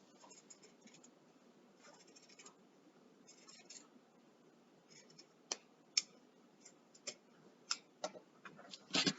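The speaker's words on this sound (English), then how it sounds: "cut off the sleeves of our t-shirt" Scissors snip along the seam to cut the sleeves off a t-shirt, giving a run of quiet, close scratchy cuts that grow into sharper, louder clicks toward the end.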